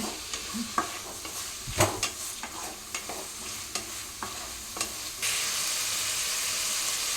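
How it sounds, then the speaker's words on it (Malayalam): Curry leaves sautéed in a pan for a Kerala-style squid curry, with a steady sizzle and repeated scraping stirs, then a louder hiss of frying near the end, close and alone. "നമ്മളിങ്ങനെ വാട്ടിക്കൊണ്ടിരിക്കുകയാണ് നമ്മുടെ പരിപാടി."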